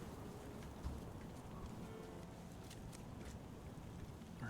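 Rain falls steadily in a video game, a soft, continuous patter with faint scattered drops, low in level and with no voices.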